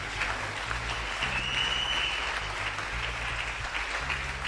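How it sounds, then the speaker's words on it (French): A church congregation applauds steadily throughout, a dense continuous clapping from many hands in a large hall, fairly loud with no pause. "Acclame le Seigneur Jésus"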